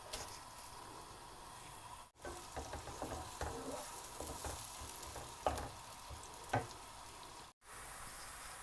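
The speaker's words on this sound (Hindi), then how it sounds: "प्याज को हमने 2-3 मिनट के लिए फ्राई कर लिया" Crushed onions fry in melted ghee in a pan for daal mash, a steady crackling sizzle with scattered stirring clinks and scrapes, close and continuous with no speech.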